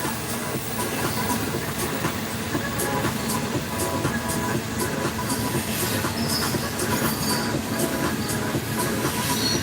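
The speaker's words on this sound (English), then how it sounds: "Wait till this train go by. The freight train is always the longest." A long freight train rolls past close by, a loud steady rumble with clickety-clack from the wheels and faint squeals and hiss, filling the whole clip with no break.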